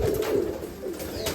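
Pigeons nesting in a caged loft on a rainy day give soft, low cooing calls close by, with a few rustling sounds between the coos and no speech.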